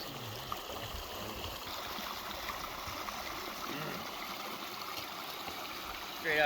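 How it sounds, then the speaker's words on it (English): A clear mountain stream flows in a steady, even wash of rushing water, close and continuous with no distinct splashes, heard outdoors near a lake in the Sawtooth Mountains. "That's some beautiful water."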